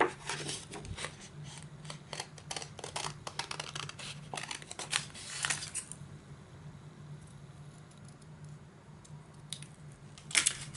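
Scissors snipping paper ephemera for a folded page pocket, a quiet run of close, sharp crisp cuts and rustles in irregular bursts, busiest early then thinning to sparse clicks.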